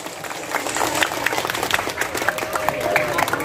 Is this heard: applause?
yes